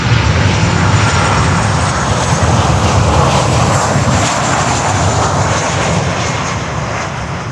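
A departing airliner climbing out over Miami Beach, its engines producing a loud, steady roar that fills the whole stretch without letup and fades only slightly toward the end.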